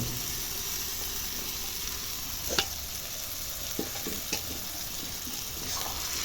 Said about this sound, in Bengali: এবার মশলার সাথে ভালো করে মিশিয়ে নাড়াচাড়া করে দেব